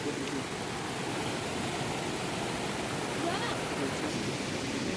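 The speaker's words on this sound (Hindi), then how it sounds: "यहाँ पे पूरा पानी आ रहा है फ्रेश" Fresh water running in a mountain stream near a village, a steady broadband rushing wash that stays even and close throughout.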